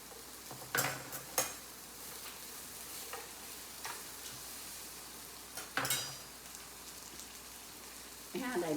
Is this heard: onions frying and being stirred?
yes